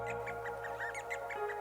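D'Arnaud's barbet, a small colorful East African bird perched on a shrub, gives a rapid series of short repeated notes, steady and fairly close, over a constant low background hum.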